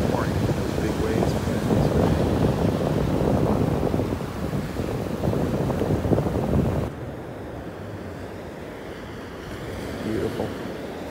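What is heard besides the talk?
big ocean waves on a beach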